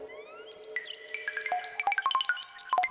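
Bright, chirpy electronic tones from a Benjolin synthesizer through a high pass filter, rapid pitched blips and sweeping squiggles that grow busier and more percussive, sounding almost birdlike.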